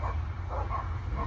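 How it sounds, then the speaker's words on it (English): Dogs across the street bark at another dog, several faint repeated barks at a distance over a steady low rumble of background noise. "Oh, they beefing with another dog"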